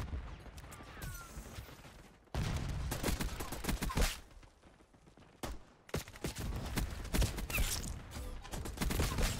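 Rapid Tanto .22 submachine gun fire in the Black Ops 6 shooter, with dense bursts of automatic shots, clatter and impacts crowding the mix and barely pausing except for a brief dip partway through.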